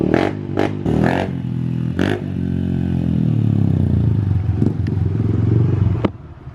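A small 110 race bike engine running on race fuel gets blipped with sharp revs early on, then settles into a close, loud, rumbling idle before cutting out abruptly near the end.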